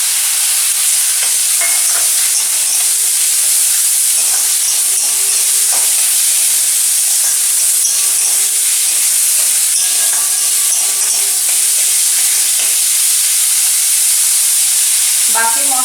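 Chicken mince for samosa filling sizzles and hisses steadily in a hot pan, a loud continuous fry with faint scraping of stirring.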